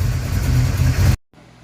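Old project car engine idling fairly strong with timing set at 14 degrees, a steady loud low rumble that cuts off abruptly near the end, followed by a quieter faint hum.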